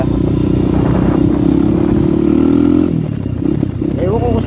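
A motorcycle used by street vendors runs steadily close by with a droning engine and rattling clatter, a voice talking over it before the engine note drops away near the end.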